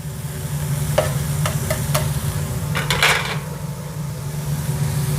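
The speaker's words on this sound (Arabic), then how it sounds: "خلاص الآن عندي طماطم ابغى انزلها." Tomatoes fry in a pan, sizzling steadily while a utensil scrapes and clinks against the pan in a few sharp stirring strokes over a low hum, with no voices.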